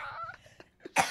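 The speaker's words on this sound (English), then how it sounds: "It's just going to be like 30 minutes of you coughing with quips in between." A woman coughs once, a sharp, loud burst right at the end, after a moment of quiet breathing and small mouth sounds in a podcast studio.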